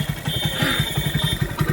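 A motorcycle engine chugs steadily at low revs with an even, rapid thump, close and moderately loud as the ride gets underway on a village road.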